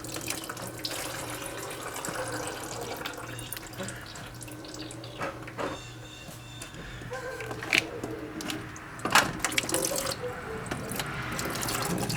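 Antifreeze draining out of a Foxbody engine's 351W turbo build and splashing on the charge pipe and the floor, a steady, close trickle and spatter of liquid with scattered drips and clanks, no talking.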